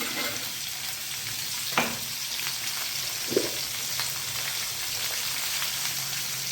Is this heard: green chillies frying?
yes